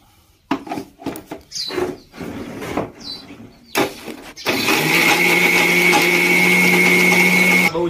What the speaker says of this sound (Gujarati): હવે મિક્સરમાં એક ઘૂમડો મારી દઉં પાછો